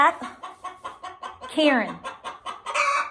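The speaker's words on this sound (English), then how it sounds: "I've got a hen and a drake, and they love each other so much." Hens clucking inside a large backyard chicken coop where a hen and a drake duck are kept, with short rhythmic calls close by and a longer squawking call midway.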